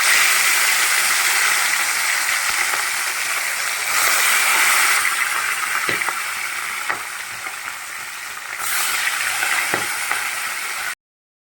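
Fish pieces fry in hot oil in a pan for an Odia-style fish curry, giving a loud, continuous crackling sizzle with periodic surges and a few sharp pops before it cuts off.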